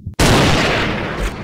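A single sniper rifle shot fired with an angel round in the video game Hunting Sniper, a loud, sharp blast that hits at once and fades into a long, rumbling tail.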